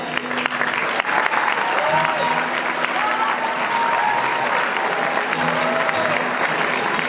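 Audience at a university Malaysian Night cultural show clapping for the producer and director, a steady, full round of applause with faint voices and a tonal sound threaded through.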